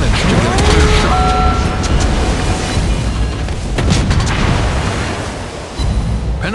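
Naval gunfire in World of Warships Blitz, with a destroyer's shells striking and breaching an enemy ship's armor: loud, dense booming blasts and rumbling explosions fill the whole stretch, under a synthetic game voice announcing hits.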